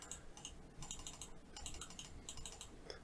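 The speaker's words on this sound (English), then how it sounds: "So I'm going to do it quietly on my keyboard." Soft, quick keystrokes on a computer keyboard, typed quietly in a steady irregular patter of light clicks close to the microphone, with no voices.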